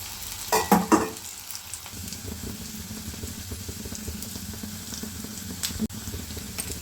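Bitter gourd pieces and crushed garlic frying in oil for crispy kakarakaya fry, a low continuous sizzle with a brief burst of clattering as pieces drop in and a few faint scrapes.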